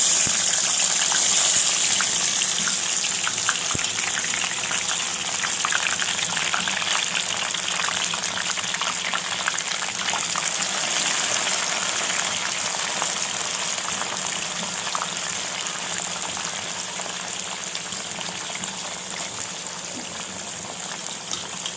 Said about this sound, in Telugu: ఈ ముక్కలు ఇప్పుడు ఇందులో వేసేసి వేయించుకోవాలి